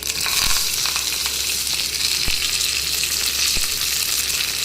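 Cumin, mustard seeds, dried and green chilies and curry leaves sizzle in hot oil as a tempering for curd coconut chutney: a loud, dense crackling hiss with a few sharp pops, no one speaking.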